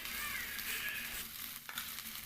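Ground tomato sizzles and fries in hot oil in a pan for an Assamese-style egg curry, a steady crackling hiss with a brief stir or scrape near the end.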